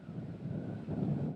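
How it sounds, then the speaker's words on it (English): Wind gusting over the microphone out on Lake Superior on a sunny, choppy day, a low rumbling buffet that swells and eases briefly, with no talk. "Although the sun was shining, it was a windy day out on the lake."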